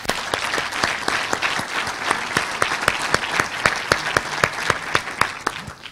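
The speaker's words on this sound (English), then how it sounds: "So please join me in a round of applause." A business plan competition audience gives sustained applause, dense and fairly loud, with a few sharp claps standing out in a steady rhythm near the end.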